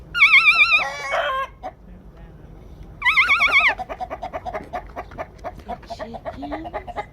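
Roosters crow loudly twice inside a chicken coop, with chickens clucking and squawking between and after the crows, close and clear.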